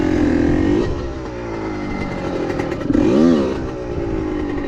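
A 1994 Honda CR125 two-stroke dirt bike engine runs close by, its buzzy tone rising and falling through a couple of throttle blips with a clattery, raspy edge.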